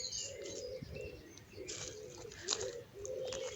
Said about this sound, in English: There's a wood pigeon in the background there.